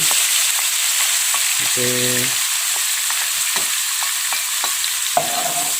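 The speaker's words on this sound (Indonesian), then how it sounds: "ini kita akan tumis bumbu" Blended spice paste sizzles in hot oil left over from frying nila fish, with a steady frying hiss, repeated ticks of a utensil stirring the pan, and one short spoken word.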